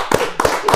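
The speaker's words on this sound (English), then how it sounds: "Let's give a hand clap to Sincerely Cedrinna." Three sharp, loud hand claps close to the microphone, evenly spaced, welcome a guest onto a podcast, with no voices between them.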